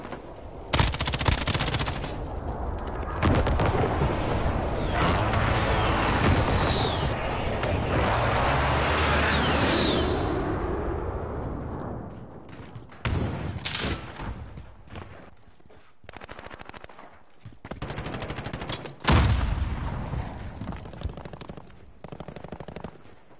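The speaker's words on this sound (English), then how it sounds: "Enemy precision airstrike inbound." Heavy gunfire and explosive blasts from an airstrike in Modern Warfare, loud and dense for about ten seconds with jet-like sweeps, then thinning into scattered bursts and sharp booms separated by quieter gaps.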